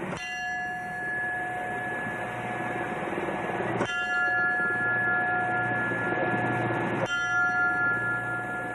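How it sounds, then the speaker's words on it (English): A fire station bell tolls as a last alarm for a dead firefighter, with three loud, ringing strikes spaced a few seconds apart over steady background rumble. "today they did use a bell, and it tolled because a firefighter was dead"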